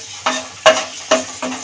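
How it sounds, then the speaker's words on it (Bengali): Dry red chillies fry in leftover fish-frying oil, a steady sizzle broken by four sharp crackling bursts as the pan is stirred. "এই মাছ ভাজা তেলের মধ্যে আমি প্রথমে লঙ্কা ভেজে নেব,"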